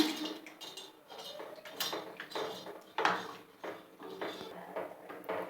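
A wooden spoon stirs and breaks up hardening sugar in a pot while making Aziziya sweets, giving close, repeated scraping and knocking with occasional sharper clinks against the metal, and no voices.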